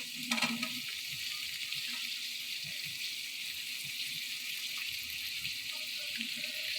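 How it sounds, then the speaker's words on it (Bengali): Pieces for fried rice fry in hot oil, producing a continuous bright hiss with a brief louder burst at the start and faint clinks in the background. "এরপরে আমি টুকরোগুলো আমি তেলের মধ্যে দিয়ে দেবো"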